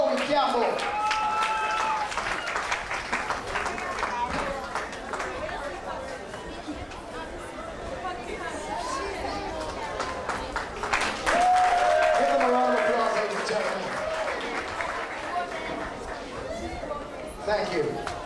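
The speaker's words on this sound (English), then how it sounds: "Give her a round of applause" A crowd at the Mini Ms. Portmore talent show applauds a young contestant, the clapping mixed with loud chatter, cheering voices and background music throughout.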